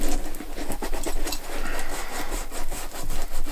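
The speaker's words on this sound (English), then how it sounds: "just rub it in" Dubbin wax is worked into leather boots by hand, making a brisk, rhythmic rubbing and scratching sound that repeats steadily and close up.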